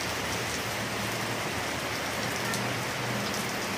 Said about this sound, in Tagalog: Pag bumuhos ng ulan yung tuloy-tuloy, grabe.